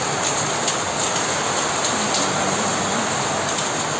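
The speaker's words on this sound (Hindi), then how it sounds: "आवाज़ सुनाई दे रहा है आप लोगों को कितना ज़ोर से बारिश पानी पड़ रहा है" Steady, heavy rain pours down, a dense continuous hiss of water with scattered drops striking a surface, no voices.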